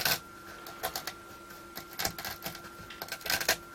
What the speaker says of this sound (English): And we'll just gently peel this material off.